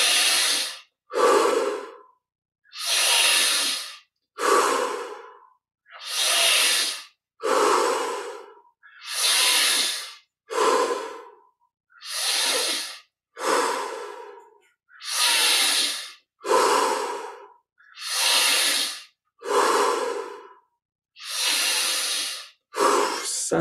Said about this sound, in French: Cinq dernières respirations.